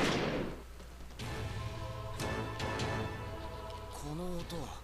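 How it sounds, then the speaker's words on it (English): A single gunshot rings out in the video game Record of Agarest War 2, a sharp burst that quickly dies away, followed by game music and dialogue voices. "That was a gunshot."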